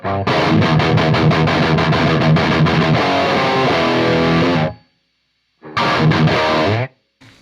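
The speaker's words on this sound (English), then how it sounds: "if I want more gain, I have another Minotaur that sounds like this" Heavily overdriven electric guitar through a Minotaur overdrive pedal and Marshall amp chugging loud riffs, cutting off abruptly, then a brief burst of distorted playing after a short silence.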